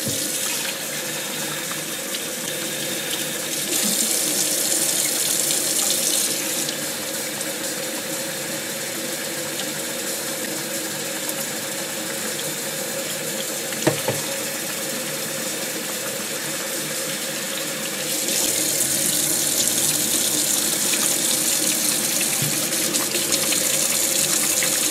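Steady tap water runs into a sink while developed vintage 116 panchromatic film is rinsed, a constant close hiss and splash lasting throughout with slight swells in flow and one brief knock midway.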